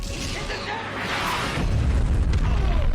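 Sci-fi spaceship weapons fire and explosions from Babylon 5 roll out as a dense, continuous rumbling barrage of booms and blasts, building louder toward the end, with voices murmuring underneath.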